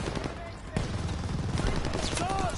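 Gunfire in the Call of Duty Vanguard video game, with rapid shots rattling in a dense, continuous burst at close range and a voice talking over the firing.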